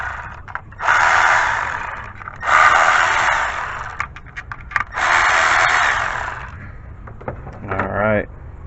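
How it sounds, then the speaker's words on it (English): Tools remove 8 mm bolts during a timing chain job on a 2004-2011 Mazda 3 2.0L engine. Three close bursts of whirring tool noise, each about a second long, are separated by small clinks and handling sounds. "these are 8mm bolts. So let's go ahead and remove that for each one."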